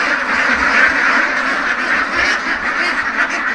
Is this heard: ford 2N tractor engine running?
no